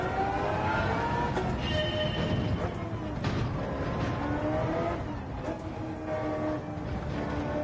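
Turbocharged race car in Gran Turismo 7 droning steadily at high revs with shifting pitch, a fairly quiet engine tone under faint background noise.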